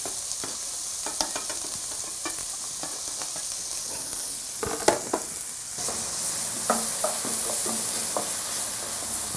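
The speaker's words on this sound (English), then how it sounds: "you can see our onions now, they're sauteing" Onions sauté in a pan for a sweet potato and okra masala, a constant sizzle broken by sharp scrapes and knocks of a stirring utensil, close and moderately loud with no voices.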